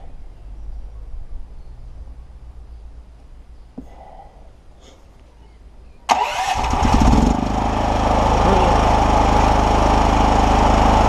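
A Clarke Power FG510ES generator's small engine is pulled over and catches around the midpoint, jumping from quiet near-silence to a loud, steady, close roar that keeps running to the end.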